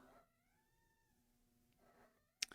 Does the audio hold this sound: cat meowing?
yes